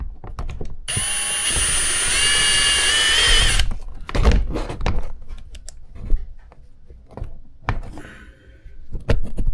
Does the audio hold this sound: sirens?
no